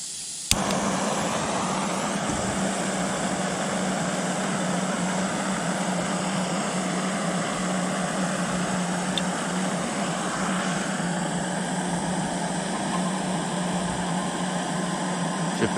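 Camping stove burner running to boil water at a stealth bikepacking camp, a loud, steady roaring hiss that holds constant and close for the whole stretch, opening with a sharp click.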